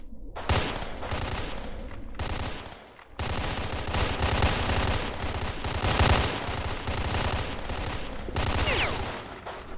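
Bursts of automatic gunfire blast loudly in STALKER: Shadow of Chernobyl as shots are fired through a floor, sustained rattling volleys broken by two short pauses near the start.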